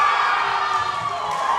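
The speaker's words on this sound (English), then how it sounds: "And you can just hear that electric crowd in the background" Crowd at the 2026 National Tertiary 3x3 Basketball Championship cheering and shouting, a steady, loud wash of many voices.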